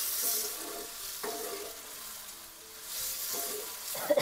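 Urad and chana dal roast in a pan with a steady, close sizzle, and a spoon stirring through the lentils adds occasional scraping accents.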